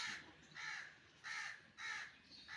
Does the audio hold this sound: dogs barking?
no